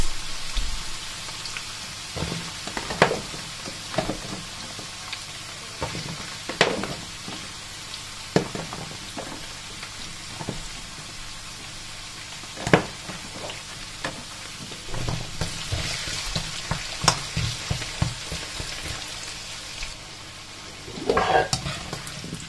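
Carrots sizzle and crackle steadily in a hot pan, with occasional scraping stirs and clatters of a utensil.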